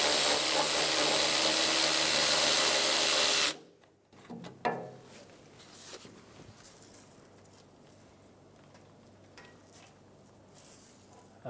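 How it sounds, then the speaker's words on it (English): A 13mm socket on a power tool runs loudly and steadily for a few seconds, taking out the top starter bolts on a 2007-2017 Ford Expedition with the 5.4L V8. It cuts off abruptly and is followed by faint clinks and handling of parts. "We're going to take out the top two starter bolts using a 13mm socket."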